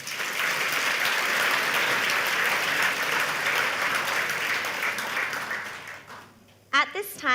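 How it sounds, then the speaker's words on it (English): Banquet audience at a New Year's celebration dinner applauds in a loud, sustained wash of clapping lasting several seconds, then tapering off, followed by a brief spoken voice at the end. "Ladies and gentlemen, please give them a big round of applause."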